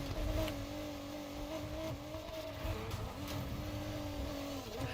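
Car engine in the Fortnite video game droning steadily with harmonic revving tones that rise and dip, close and continuous for the whole stretch, with no talking.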